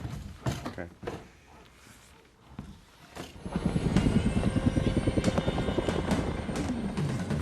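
A helicopter in a film scene starts up with a rising mechanical whine, then settles into a steady rhythmic rotor chop, preceded by a few knocks and clunks.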